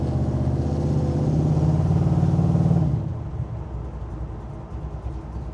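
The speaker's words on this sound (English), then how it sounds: "This is a good sounding truck, and you can hear the reverb off the curbs on this street." A 1970 Chevrolet C10 truck with a ZZ502 GM crate engine of over 500 horsepower drives down a curbed street, its loud, rumbling exhaust building and then dropping to a lower, steady burble.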